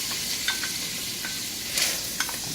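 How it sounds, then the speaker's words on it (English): Pancetta sizzles in about two tablespoons of hot olive oil in a pan, a steady close crackle with brief louder pops and occasional spatula stirs, no voices. "I've got about 2 tablespoons of olive oil in this pan heating, and I am going to add my pancetta"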